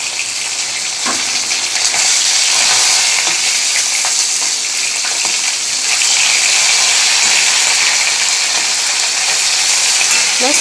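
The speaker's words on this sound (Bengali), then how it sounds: "চলো এই মাছগুলো ভেজে তুলে নিলাম।" Fish fries in hot oil, making a loud, dense, continuous crackling sizzle close by, with occasional clinks and scrapes of stirring throughout.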